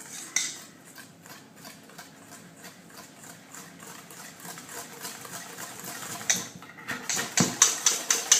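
Clafoutis batter being mixed in a bowl for a cherry, hazelnut and chocolate version, with soft steady scraping and clinking of a utensil, turning into louder regular tapping strokes near the end, no talking.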